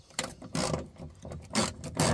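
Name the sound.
ratchet removing bolt from car window regulator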